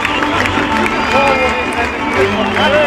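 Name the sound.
football crowd cheering the 8:0 goal for VfB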